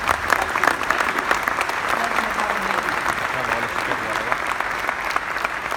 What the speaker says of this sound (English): Let's please all give Tanmay a very round of applause.